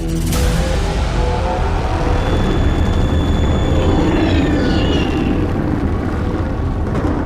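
A sci-fi spaceship landing effect, a loud continuous roar of rumbling engine noise with a high whining tone sliding through the middle, sustained without letup.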